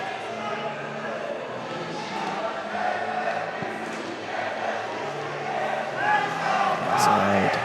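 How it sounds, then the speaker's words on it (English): Arizona team members cheering and shouting to hype up the crowd at the 2023 GymACT Championships men's gymnastics meet, a steady rowdy arena din heard behind loud commentary. "You hear the Arizona guys in the background getting everybody hyped up, getting the crowd engaged"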